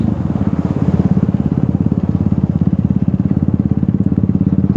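Motorcycle riding along a road in rainy Nainital, a loud, close, steady engine drone with a fast, even throbbing pulse throughout.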